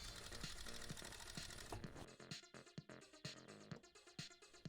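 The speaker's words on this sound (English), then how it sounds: "I'll sew it right where is the crease" A sewing machine stitches baby bodysuit fabric along a crease, starting with a continuous run and then breaking into short, rhythmic bursts of stitching, quiet and close.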